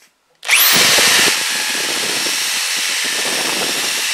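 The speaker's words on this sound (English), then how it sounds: "if you just kind of ream it out a little bit, then it'll fit right up in there" A power drill spins up sharply after a brief silence to ream out a copper tubing fitting. Its high, loud whine settles into a steady grinding hum, with scraping and rattling from the bit working the copper.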